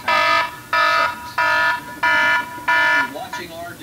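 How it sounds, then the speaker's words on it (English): An iPhone 2G plays its alarm ringtone through its speaker: five bright, electronic beeping bursts in a steady on-off rhythm, loud and close, with a short trailing chirp at the end. "Alarm."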